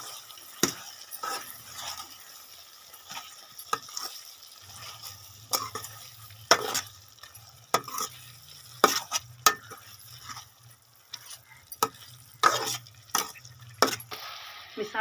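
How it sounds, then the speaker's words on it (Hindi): Chicken with turmeric and crushed red chili fries in a pan under a low, steady sizzle, with sharp, irregular clinks of a utensil scraping and stirring against the metal. "मसाले के साथ 2 मिनट और भून लेंगे"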